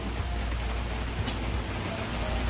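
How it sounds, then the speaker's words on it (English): Steady rain falls outside a 47ft Marine Trader trawler boat during stormy weather, a dense, even hiss with low rumble that holds unbroken and moderately loud throughout, with no talking. "I don't know if you can see, but it is raining."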